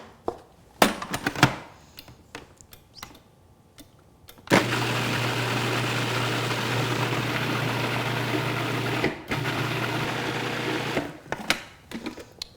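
A food processor purées vegetables for raw crackers, whirring loudly and steadily for several seconds, then stopping and starting again briefly. Scraping and handling noises come before and after.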